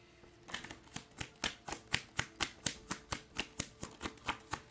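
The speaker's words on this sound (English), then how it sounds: "we're going to put them back and we're going to shuffle" Tarot cards being shuffled during a full moon tarot reading, a steady run of about fifteen crisp, evenly spaced riffling snaps heard up close, with no talking over them.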